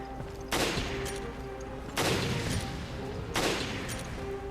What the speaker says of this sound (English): And now use your sniper to pick these guys off.